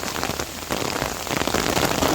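Rain mixed with hail falls in a forest, a dense, loud patter of drops hitting leaves and ground that swells slightly toward the end, with no one talking.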